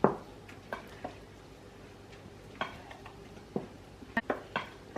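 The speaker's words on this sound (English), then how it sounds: "so I'm mixing the fruits" A spoon knocks and scrapes against a bowl as dried fruits are stirred for a Jamaican fruit cake, a handful of sharp clinks spaced out over quiet room tone, close and fairly soft.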